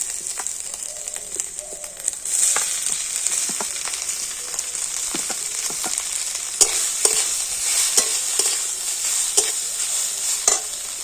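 Grated cauliflower frying with ginger and green chilli in a pan, giving a continuous bright sizzle broken by repeated clattering stirs and scrapes.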